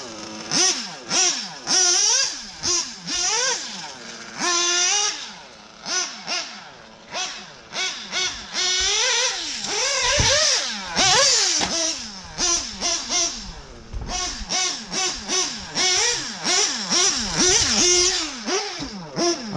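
A nitro RC car engine revs hard in repeated high-pitched buzzing bursts, rising and falling rapidly and sometimes sagging as it bogs down, loud and close with brief gaps between throttle blips.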